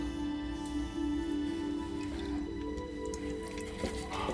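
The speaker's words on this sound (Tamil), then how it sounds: "இந்த மாதிரி கடைஞ்சிக்குங்க நல்லா நெவு நெவுன்னு கடைஞ்சிக்குங்க" Cooked farm greens being mashed for Tamil keerai kadaiyal, soft wet squishing and dripping sounds close up under a low steady hum, with no talk.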